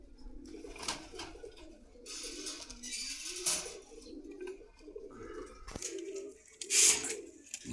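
Pigeons cooing at a bustling bird market in Dhaka, repeated throaty calls at varying distances mixed with scattered market clatter and background noise.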